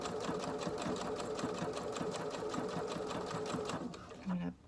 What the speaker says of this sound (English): sew until I come off the fabric